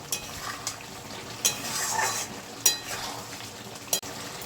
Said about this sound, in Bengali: গরম মশলা দিয়ে দিচ্ছি, ভালো করে নেড়ে নেব।